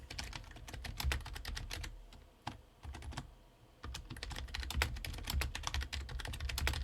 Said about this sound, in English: You guys get some keyboard ASMR.